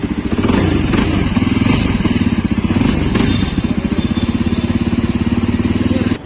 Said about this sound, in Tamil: ஸோ வண்டி எக்ஸாஸ்ட் நோட் வந்து அப்படியே கேளுங்க கொஞ்சம் நேரம்.